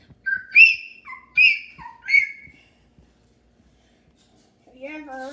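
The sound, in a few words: person whistling imitating a bird call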